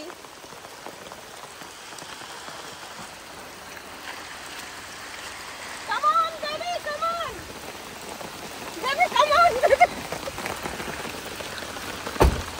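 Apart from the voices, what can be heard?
rain falling on surfaces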